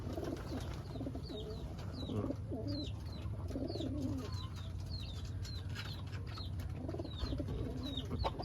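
Pigeons coo in a repeated low, throaty rhythm, a newly paired male and female kept together, with high chirping birdsong scattered above and a steady low background hum throughout.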